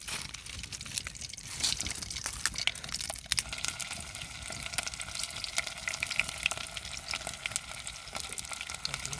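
Chillies frying in hot oil in a home kitchen, a quiet continuous crackle and sizzle with occasional sharper pops and clinks.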